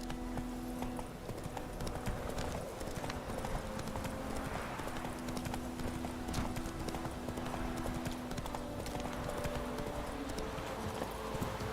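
Roach the horse trotting in The Witcher 3, steady clip-clop of hooves continuing throughout over a constant game ambience and music drone, with an occasional faint whinny.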